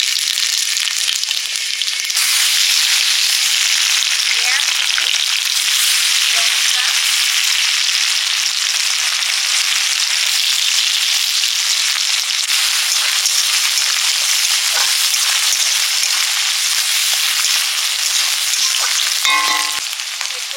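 Panch phoron spices fry in hot oil for a spicy small-fish curry with taro and potato, giving a loud, steady sizzle that runs unbroken the whole time with a few crackles near the end.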